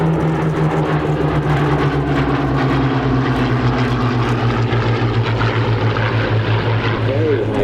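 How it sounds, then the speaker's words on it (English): A Fury fighter aircraft makes a very high-speed arrival at an airshow, its propeller engine droning loudly and steadily throughout with a slowly falling pitch as it passes, over a busy outdoor crowd background. "very high-speed arrival of Paul Bonhomme in his Orca Fury"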